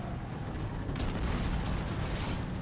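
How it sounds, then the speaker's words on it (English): Explosions and gunfire from Halo: The Master Chief Collection, a dense, continuous rumble of booms and blasts with a sharper burst about a second in, loud and steady throughout with no voices. "But I mean, there's explosions,"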